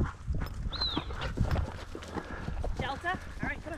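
Horse hooves clop along at a slow walking pace on firm ground in South Texas field trialling, close by, while people talk and a bird chirps briefly.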